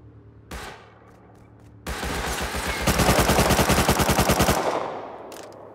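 Automatic gunfire in the survival video game Rust: an isolated shot, then a long, loud, rapid burst of machine-gun fire that runs for several seconds before cutting off.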